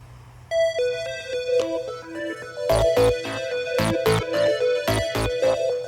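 A melodic phone ringtone plays, starting with rising tones, then louder repeated chiming bursts continuing steadily to the end.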